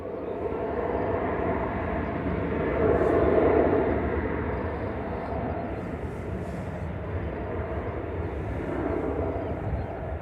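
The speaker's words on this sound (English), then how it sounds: "Aer Lingus UK from JFK is on base leg" An Aer Lingus UK airliner from JFK turning onto its approach to Manchester Airport gives a steady, fairly distant broadband roar that swells briefly mid-clip, with no voices.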